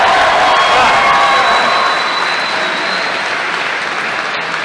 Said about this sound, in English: Let's have another round of applause for John